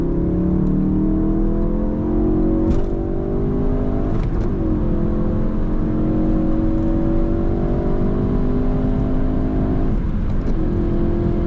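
A 2017 Ford Focus RS with the 2.3 EcoBoost engine pulls hard in third gear from 100 to 200 km/h, its engine note climbing in a long continuous rise, heard loud from inside the cabin, with brief clicks and shifts in tone along the way.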